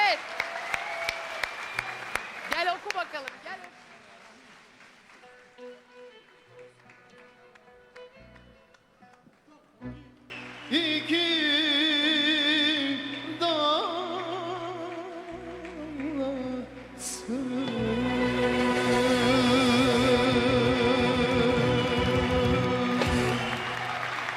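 An audience applauds as a singer arrives on a Turkish pop television show, with a host's voice over it at first. The clapping then swells into sustained, loud applause with music.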